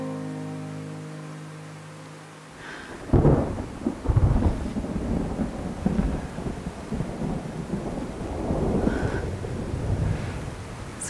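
Thunder and rain at night: after a brief quieter musical bed, a heavy rumbling thunderclap breaks in, followed by continuous loud rain hiss with further rolling rumbles.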